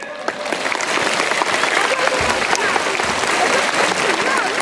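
Loud, sustained applause from an audience at a parish Christmas celebration in Pomabamba, Peru, with steady dense clapping lasting the whole stretch and voices mixed in.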